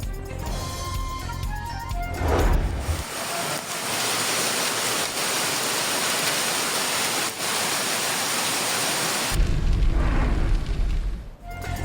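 Rain and hail pour down on the city of Karachi, a dense, loud, hissing roar of falling water and ice that stays steady through the middle, with heavier rumbling bursts at the start and end.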